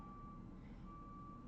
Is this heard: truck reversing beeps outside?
yes